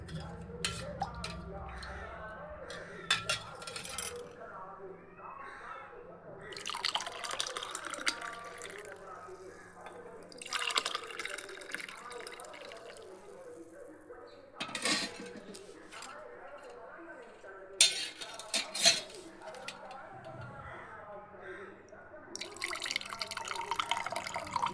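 Homemade juice for a Ramadan iftar is poured into a glass, with a soft trickling splash and occasional light clinks, heard faintly under ongoing talk.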